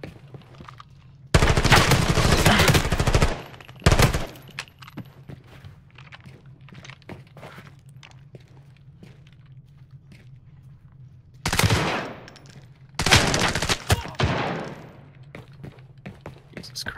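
Automatic rifle fire with heavy recoil in Arena Breakout: Infinite: a loud, long burst, then a short one, and after a quiet stretch with faint clicks and movement, two more close, punchy bursts.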